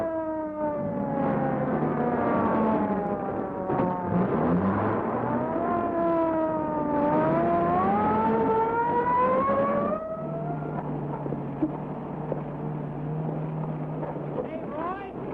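A sheriff's police patrol car drives with its siren wailing, rising and falling pitch sweeps over steady engine noise for about ten seconds, then the siren drops away leaving a lower engine drone.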